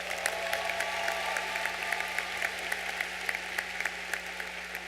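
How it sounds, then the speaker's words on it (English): Audience applause at a university commencement ceremony in a large hall, a steady wash of clapping with scattered sharper claps throughout. "Let's give them another round of applause."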